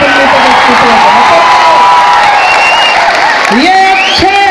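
An audience claps and cheers at a mushaira (Urdu poetry gathering) in Adilabad, a dense, loud wash of applause and crowd noise under a voice that is speaking or reciting on top.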